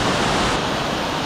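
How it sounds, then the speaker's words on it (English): A wide two-part cascade at Fridays Creek near Coffs Harbour rolls over several levels with good flow, making a loud, steady roar of rushing water close by. "It's really technically 2 waterfalls together."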